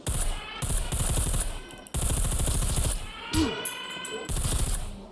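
Loud bursts of rapid automatic gunfire fired at bears in the survival game Scum, several long volleys separated by short pauses, with a brief animal cry between them and no talking.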